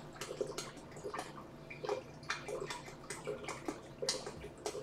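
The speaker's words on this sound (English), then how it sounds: "Slowly, so I don't pour it too fast and disturb any of the corals or creatures." Water poured slowly into a reef aquarium tank, a soft continuous trickle and splashing with small bursts and drips, close and fairly quiet.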